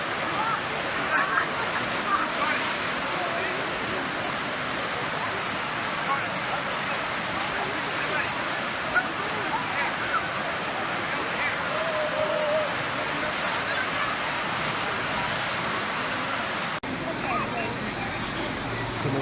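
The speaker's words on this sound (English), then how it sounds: "flows down this waterfall, which is actually a waterfall" Waterfall at Sliding Rock, a natural rock slide in the woods, rushing in a steady, loud, broadband roar that holds for the whole stretch, with faint crowd voices mixed into the wash.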